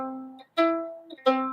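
A major third sounds on an instrument as two clear sustained tones, each fading gradually, with no voices.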